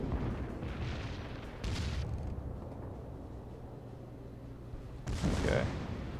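Heavy battleship main guns of the Scharnhorst firing in World of Warships, a few deep booming salvos with rumbling tails, one near the start and a louder one near the end, over a low steady engine drone.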